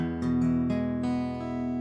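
A single acoustic guitar major chord strummed a few times in quick succession, close and moderately loud, with no voices.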